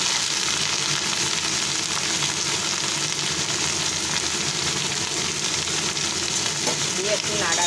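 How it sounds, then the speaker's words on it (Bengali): Drumstick flowers and capsicum fry in a wok, a steady close sizzle with occasional scraping stirs throughout, loud and continuous with no talking. "দিয়ে একটু নাড়ানাড়ি একটু ভাজা ভাজা করে দিলাম।"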